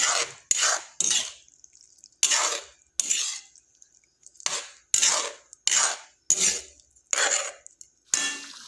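Menudo with pork and beans stirred in a metal pot, a dozen separate scraping, clinking spoon strokes with short pauses between them, close and clear with no talking.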